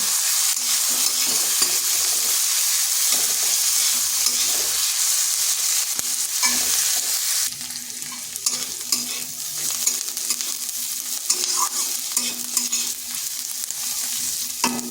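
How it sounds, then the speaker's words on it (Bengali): Loud, constant frying hiss of onion and green chili in a pan with irregular stirring scrapes, dropping slightly in level halfway through. "পেঁয়াজটাকে হালকা ভেজে নেব।"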